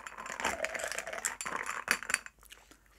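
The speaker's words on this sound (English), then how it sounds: "I'm just going to stir this through" A long bar spoon stirs a pineapple rum cocktail over ice, giving a quick, close run of bright clinks and rattles against the glass that thins out and stops near the end, with no talk.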